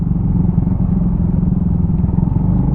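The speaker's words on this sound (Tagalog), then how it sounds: "Daming mga motor, big bike." Several motorcycles and big bikes ride past close by on a road in Bolinao, Pangasinan, their engines making a loud, continuous rumbling drone with no talking.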